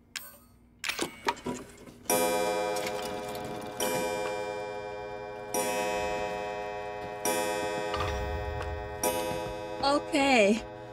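A clock in the Resident Evil 7 horror game ticks steadily in a loud, close, regular rhythm, with tonal game sounds layered over it and a brief warbling sound near the end.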